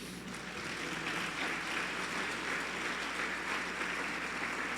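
A church congregation applauds in a steady, dense wash of clapping that holds evenly throughout, fairly distant and without talk.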